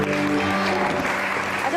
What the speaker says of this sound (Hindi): शुमाइला के लिए बहुत सारी तालियां